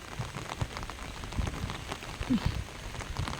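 Steady rain falls and patters on surfaces nearby, with scattered drips; soft and even, no voices.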